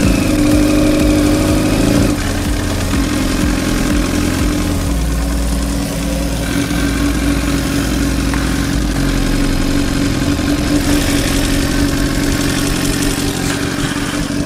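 A motorcycle engine idles steadily at close range in a town setting, a continuous low rumble with small shifts in pitch and no talk over it.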